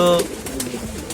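A racing pigeon gives a low, soft coo, followed by faint fluttering and rustling nearby.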